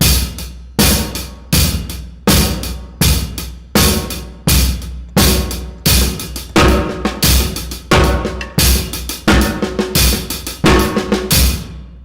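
A paradiddle pattern played across a drum kit, loud and close, with a busy run of strokes that starts evenly and grows denser in the second half, no talking.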